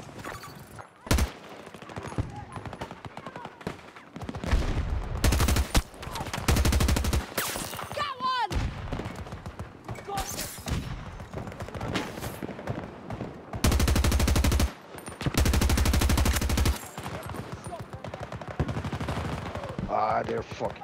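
Rapid bursts of gunfire from a shooting video game, loud automatic volleys and single shots in clustered bursts with brief pauses, while players talk excitedly over the action.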